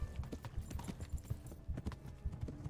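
Horse hooves clip-clop in the video game Kingdom Come, a quick, steady galloping rhythm that stays moderately close and fairly soft.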